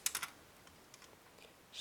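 Metal clicks from a Cisa lever lock being picked, a quick cluster of sharp ticks at first, then sparse faint clicks and a brief scrape at the end, close and quiet.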